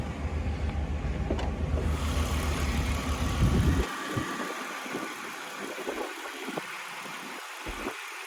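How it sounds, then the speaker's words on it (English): A Jaguar S-Type 3.0 SE+ automatic idles with a low, steady engine hum at close range. Partway through, the deep rumble drops back, leaving a quieter ticking idle with faint clicks and handling noises. "we've had the car ticking over the whole time we've done this video"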